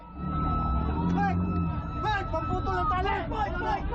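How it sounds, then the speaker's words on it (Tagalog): Loud sirens wail over a crowd of voices, with rising and falling tones sweeping through the busy outdoor noise. "Maririnig din ang mga malalakas na sirena."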